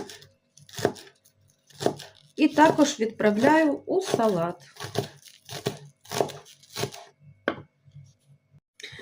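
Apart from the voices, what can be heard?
chopping green onions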